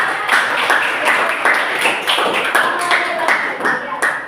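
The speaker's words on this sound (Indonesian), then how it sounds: "Ya, tepuk tangan lagi ya." Classroom children clapping hands together in a rhythmic, patterned beat, close and loud, with repeated sharp bursts at regular intervals and some voices mixed in.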